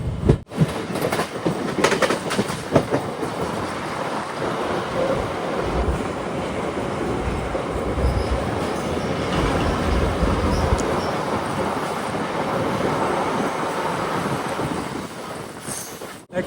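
A train arrives at Munroe Island (Munroethuruthu) railway station in Kerala with a long, steady rumble and rhythmic clickety-clack of wheels over the rails, loud and close, with wind buffeting the microphone throughout.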